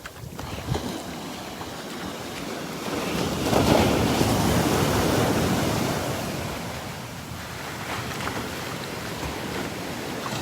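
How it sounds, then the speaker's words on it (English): Ocean waves roll onto an open beach at Barefoot Beach Preserve, a continuous broad rushing surf that swells louder in the middle and eases back, mixed with wind buffeting the microphone and no voices. "Nice waves."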